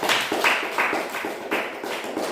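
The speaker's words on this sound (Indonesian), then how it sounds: "tepuk tangan untuk Jihan" A classroom of pupils claps for a classmate in a quick, even rhythm, with sharp unison bursts repeating about three times a second. The clapping sounds fairly close and fills the room without voices.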